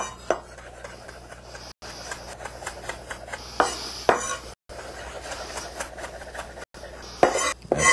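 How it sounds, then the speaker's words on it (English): A knife roughly chopping fresh parsley for a sauce on a cutting board: close, irregular taps and sharp knocks spaced across the stretch, with brief scraping between them and no talking. "we don't want this parsley too fine, so we're just going to kind of chop it"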